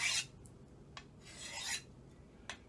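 Convex knife blade sharpened on a diamond sharpener: a few light, scratchy rasping strokes, close and quiet, with short gaps between them and no talking.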